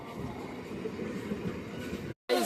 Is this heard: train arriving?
yes